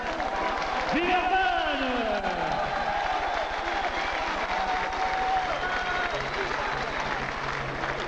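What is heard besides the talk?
boxing arena audience applause in Villeurbanne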